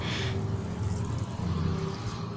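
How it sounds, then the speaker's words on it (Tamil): About a cup of water poured into a pan of mutton kurma masala, a soft continuous splashing pour that runs steadily throughout, faint and close with no talk. "நான் வந்து ஒரு கப் அளவுக்கு வந்து தண்ணி சேர்க்குறேன்"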